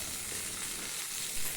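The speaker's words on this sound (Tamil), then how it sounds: "வெங்காயம் சேர்த்து நன்றாக வதக்கி விட்டுக்குங்க." Small shallots sautéing in hot oil with curry leaves in a home kitchen pan for chicken kuzhambu give a steady, dense sizzle throughout, close and even, with no voices.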